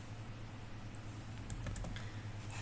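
Computer keyboard keys tapped in a quick cluster of light clicks partway through, over a steady low electrical hum, with no talking.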